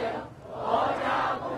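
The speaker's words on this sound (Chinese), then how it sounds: "青少年热情欢呼致意" Young people cheer together at a state honours ceremony in Beijing, a broad sustained crowd roar with chanting voices rising and falling, fairly loud and continuous throughout.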